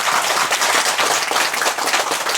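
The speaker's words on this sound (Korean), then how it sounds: "그 만드는데 수고하신 분들 박수." A congregation at a Buddha's Birthday Zen center service applauds those who made the meditation boards, dense close clapping sustained without pause.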